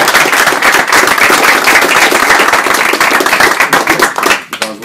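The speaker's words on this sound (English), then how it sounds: "we need to applaud this exhibit" An audience breaks into loud, dense applause for the Negro Leagues Baseball exhibit announcement, a sustained crackle of many hands clapping that thins out and fades near the end.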